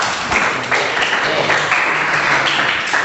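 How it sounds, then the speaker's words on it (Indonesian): A classroom of students claps together for a group's answer, a dense, steady patter of applause lasting a few seconds with a few voices mixed in. "Tepuk tangan untuk jawaban dari kelompok 1"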